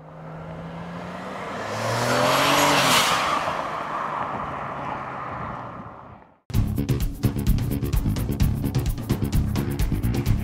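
A stock 2013 Audi S4 at a drag strip: an engine swells and revs loudly for several seconds, then an abrupt cut to a harsh, pulsing roar of the car racing hard up close.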